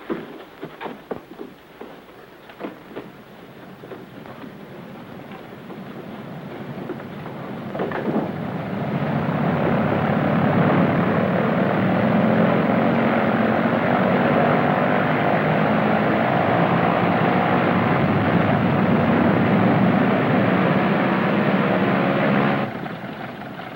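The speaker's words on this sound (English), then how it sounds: "In a German plane?" A German propeller aircraft's engine drones steadily in flight, building from quieter sounds into a loud, continuous roar that holds for most of the passage before cutting off near the end.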